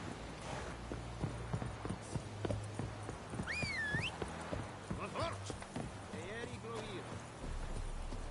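Horse hooves clip-clop in The Witcher 3 at a walking pace, a steady faint rhythm under ambient game sound and a voice talking.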